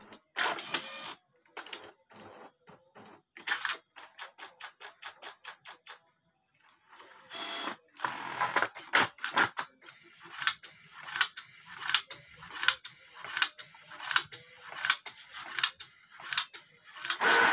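A Brother MFC-J591 inkjet printer prints a test page: rhythmic mechanical clicks and quick whirring passes of the print head, repeated in regular bursts with a brief pause midway, close up and without voices.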